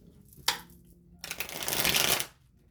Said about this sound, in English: This is my super duper deck. Let's get maybe 2 or 3 cards out of here.